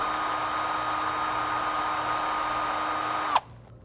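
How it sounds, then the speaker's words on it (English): A small power drill with a 1/8 inch bit whines at a steady high pitch for several seconds while drilling wood, then cuts off abruptly with a brief clunk. "now I'll drill the hole with the 1/8 inch bit"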